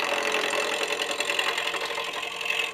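A spindle roughing gouge cuts a wood blank turning between centers on a lathe, giving a steady, continuous whirring scrape with a dense rough texture throughout.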